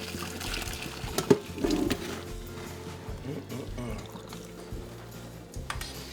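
Boiled pumpkin liquid pours through a strainer in a soft, close splashing trickle, with a louder gush near the start and faint clinks after, and someone speaking briefly.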